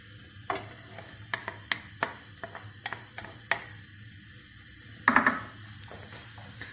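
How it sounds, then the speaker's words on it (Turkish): Onions being stirred in hot oil in a frying pan, with a low steady sizzle under a series of sharp utensil taps and scrapes against the pan, including a louder clatter near the end. "yavaş yavaş karıştırıyorum"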